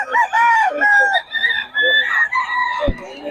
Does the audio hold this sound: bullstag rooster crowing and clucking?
yes